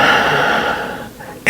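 A slow, steady exhale during a meditation breathing exercise forms a soft breathy hiss for over a second, trailing off before a short, sharp breath sound at the end.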